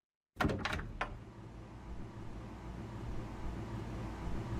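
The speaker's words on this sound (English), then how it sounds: "Let's use a timer to measure the time between the door opening and closing." A door in an alternate reality game opens with a sudden sharp knock and a few quick rattling clatters, then gives way to a low steady hum.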